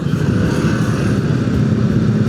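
Motorcycles move through heavily jammed city traffic in Yogyakarta, a loud, dense and continuous engine rumble close by with no talk.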